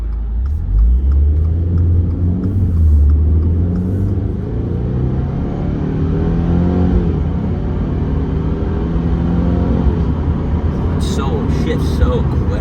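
A 2023 Subaru WRX accelerates hard toward almost 80 mph, its engine rumbling loud and close from inside the cabin with rising revs, quick gear shifts and a steady road roar, with occasional voices faintly underneath.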